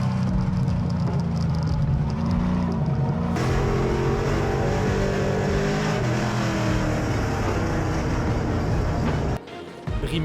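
Drag race cars roar and accelerate on a slippery track at a Festidrag event, a loud continuous engine drone with shifting pitch holding steady throughout, then dropping out abruptly near the end.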